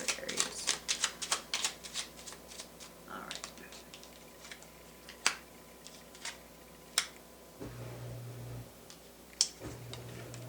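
Tarot cards are shuffled and drawn, giving soft close taps, riffles and flicks in irregular clusters, quiet overall, with a voice speaking in between.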